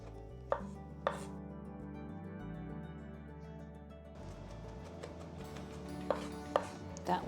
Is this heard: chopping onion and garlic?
yes